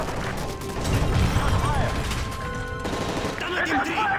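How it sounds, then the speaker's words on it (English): Gunfire in the video game Call of Duty MW3, heard as a dense, continuous clatter of shots and impacts running through the whole stretch under a busy game soundscape, with no clear pauses. "That's gunfire!"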